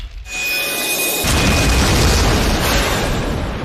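Anime explosion created by combining water magic with a lightning monster, a sharp, loud blast that erupts into a sustained roaring rumble before cutting off.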